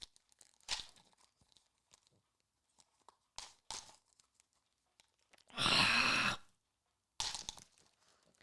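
A packet of M&Ms torn open by hand without scissors, heard as several separate bursts of crinkling plastic with one long, loud rip near the middle, and quiet pauses in between.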